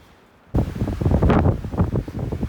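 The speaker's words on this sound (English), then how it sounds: "Back on top of a very windy ridge." Strong wind buffets hard against the microphone on a winter mountain ridge in the Canadian Rockies, loud, gusting rumbles after a brief quiet moment.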